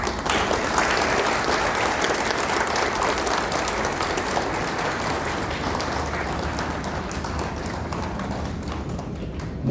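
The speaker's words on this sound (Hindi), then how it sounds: "आप लोग उठकर तालियों से, गड़गड़ाहट से आपका स्वागत करिए" A standing audience claps loudly and continuously to honour fire officers at a hospitality association event, a thick steady roar of applause with no talk.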